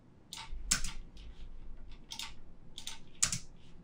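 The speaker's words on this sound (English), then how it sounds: "Space on the keyboard, let's see," A computer keyboard is tapped while working in Cinema 4D, giving a few sparse, close, crisp key clicks with pauses between them and no talk.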